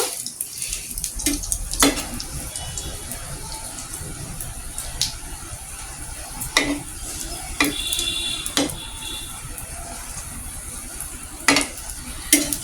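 Slices of bread dipped in egg fry in a pan with a continuous close sizzle, broken by several sharp spatula taps and scrapes as pieces are turned and pressed down.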